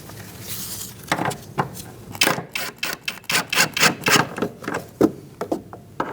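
Rear shock absorber bolts on a 2016-2019 Chevrolet Cruze are tightened with a ratchet, giving a close run of quick clicking bursts with brief pauses between turns.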